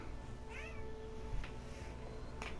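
A house cat gives a few short meows, faint and somewhat distant, over a steady noisy background hum.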